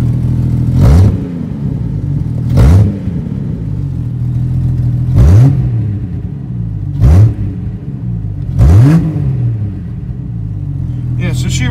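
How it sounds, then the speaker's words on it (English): A trail rig's small engine idles with a steady low rumble and is revved five times in short, evenly spaced bursts, each rising sharply then falling back to idle, close up with no talk. "Give her a little rev."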